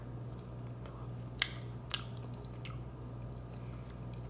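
Soft chewing of a piece of unwashed fruit with its peel on, a few crisp bites and crunches standing out over quiet steady mouth sounds, close and fairly faint.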